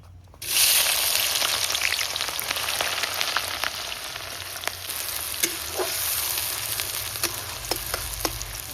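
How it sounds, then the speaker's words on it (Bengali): Chopped onions hit hot oil in a wok and burst into a loud, dense sizzle that holds steady, with scattered spatters and stirring clicks. "তো আমি পেঁয়াজ কুচি আগে দিয়ে দেবো।"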